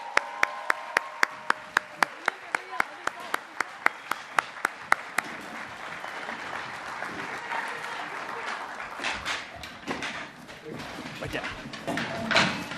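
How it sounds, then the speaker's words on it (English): Audience applause for a Kong's Taekwondo Academy performance at an AANHPI Heritage Month celebration, opening with slow sharp rhythmic claps that give way to a looser crowd clapping with chatter underneath. "So once again, one more round of applause for them."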